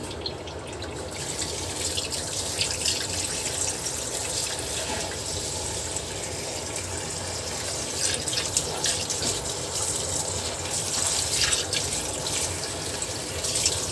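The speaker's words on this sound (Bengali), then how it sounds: "ধুয়ে নিব।" Banana blossom is washed under a running kitchen tap, a loud, steady gush of water splashing into a sink with fluctuating spatter, close and constant throughout.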